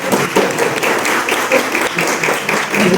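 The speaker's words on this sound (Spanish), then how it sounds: "Así que vamos a darle un aplauso al profesor Carlos Blum" A conference audience at a tarot gathering in Caracas applauds, a dense, continuous wash of clapping that holds steady and fairly loud throughout.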